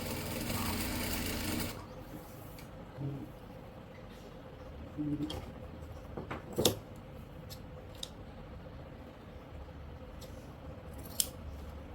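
A sewing machine stitches a fabric strip, giving a brief loud whirring run at the start, then quieter intermittent clicks and taps with scattered handling sounds in a faint room background.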